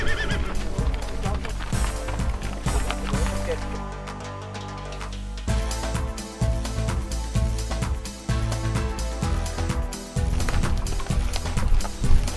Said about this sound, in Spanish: Es el paseo a caballo.